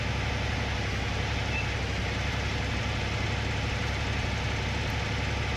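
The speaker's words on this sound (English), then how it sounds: "What a fair tractor that is." A tractor engine idles in Farming Simulator 19, a steady, unbroken low mechanical drone held at an even loudness throughout, with no voices.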